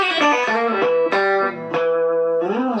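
A Fender American Professional Telecaster electric guitar through a compression effect plays a few sustained, smooth, evenly compressed notes with bends, close and steady in volume, no talking.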